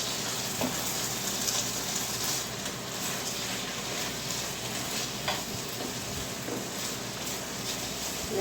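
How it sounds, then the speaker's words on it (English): Flour and broth being stirred in a pan for a creamy mushroom risotto base, a steady scraping stir under a continuous soft sizzle, close and moderately quiet, with no talking. "Mix that up really good there so your flour cooks"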